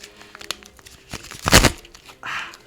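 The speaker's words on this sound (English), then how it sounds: "Let's do another bridge shuffle for the microphone." Playing cards riffled together in a bridge shuffle at a Magic: The Gathering old school tournament, a crackling, crinkling burst peaking midway with lighter paper flicks before and after, close and alone.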